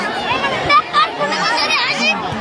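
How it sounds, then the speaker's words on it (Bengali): Spectators at a village horse race in Bangladesh or West Bengal chatter in a dense, steady babble, with many overlapping voices close by and a few louder shouts rising from the crowd. "মানুষের ভিড়"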